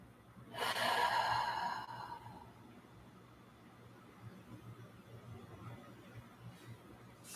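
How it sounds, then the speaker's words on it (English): A single long, audible breath drawn through the nose during a yoga class, airy and close, fading into quiet room hiss afterward. "Take a few breaths here."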